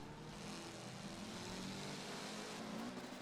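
Race cars in a rally racing game hitting top speed down a straight like a drag race, a steady, faint engine drone with continuous high-revving tone and no talk.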